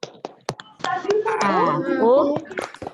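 Sharp hand claps tap out a quick rhythm while young voices chant the Indonesian clapping chant "tepuk anak pintar" in a sing-song pattern between the claps.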